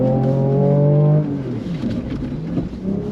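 A Ford Ranger Raptor pickup's engine roars loudly off-road, its pitch rising and falling as it accelerates, with rough mechanical rumble throughout.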